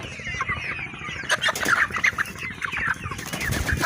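Chickens on a poultry farm clucking close by, a busy overlapping chorus of clucks and short squawks with a steady bustle of the flock behind, no talking.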